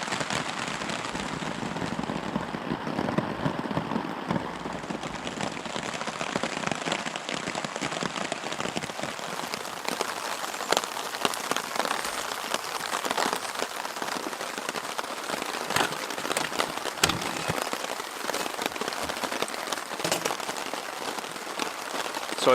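Heavy rain pours steadily at a canoe campsite in Temagami, a dense, continuous hiss of drops drumming on surfaces for the whole stretch, with no voices.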